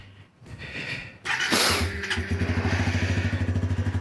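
A Suzuki GSX-S125 motorcycle, opened up for a coolant change, cranks briefly on its starter, catches with a loud burst, then settles into a close, steady, pulsing idle.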